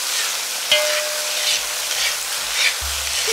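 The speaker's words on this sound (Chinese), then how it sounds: "继续炒香" Pickled vegetables, cabbage, pickled ginger slices, shredded carrot and chili paste being stir-fried in a wok, with a steady close sizzle and occasional clinks and scrapes of the spatula.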